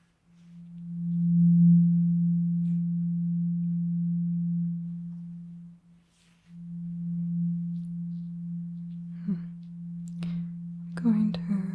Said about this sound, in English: Just swapped out the second tuning fork for a higher tuning fork.